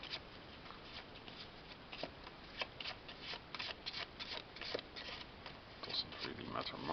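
A deck of game cards is shuffled with a run of quick, soft riffling and flicking sounds, close and fairly quiet, while someone talks over it.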